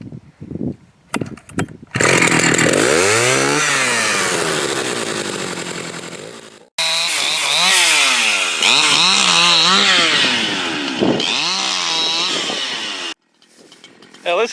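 Husqvarna chainsaw, between a 61 Rancher and a 272, starting up and cutting firewood; loud, close engine revving in long pulls with rising and falling pitch as it bogs into wood, a short pause and restart midway.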